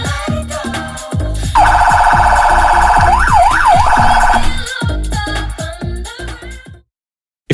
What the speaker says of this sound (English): If the siren made you nervous